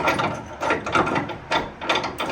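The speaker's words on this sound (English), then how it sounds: "Let's put this bolt back in." A bolt is threaded back into a 1961 Mercury Comet's Mustang II front end with Wilwood brakes, giving a close, steady run of ratcheting, clicking mechanical turns over about two seconds.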